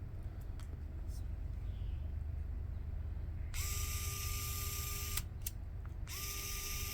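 Fanttik E1 Max mini electric screwdriver switched to high speed, a close high-pitched motor whine that starts partway in, stops briefly and then starts again over a steady background hum.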